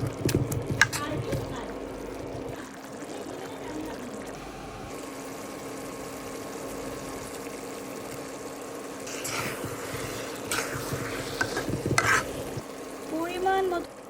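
A pot of ginger paste, spinach, onion and turmeric is stirred and mixed, producing continuous scraping and rustling over a low frying sizzle, with a few louder clatters near the end.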